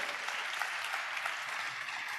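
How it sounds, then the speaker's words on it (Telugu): A church congregation claps together in a continuous, dense burst of applause that holds steady the whole time, moderately loud with a roomy wash and no clear talk on top. "చప్పట్లు కొడుతూ హల్లెలూయా."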